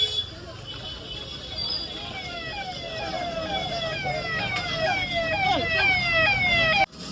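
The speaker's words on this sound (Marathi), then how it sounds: "पोलिसांची गाडी आली" A police car's wailing siren sweeps past on a busy street near the wholesale market at Dadar, Mumbai, rising and falling over steady traffic noise and crowd babble, loud and close.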